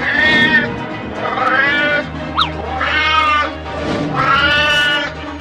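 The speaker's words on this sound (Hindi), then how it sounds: "अरे वो तो एक बिल्ली है," A cartoon cat yowls loudly in long, drawn-out wails, three or four rising and falling cries in a row, close by with steady background noise.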